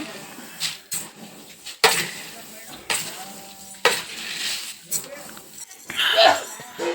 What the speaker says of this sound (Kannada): ಕಡಲೆಬೇಳೆ ಆದ್ಮೇಲೆ ಉದ್ದಿನ ಬೇಳೆ. ಇವಾಗ ಎಲ್ಲನೂ ಮಿಕ್ಸ್ ಮಾಡೋಣ.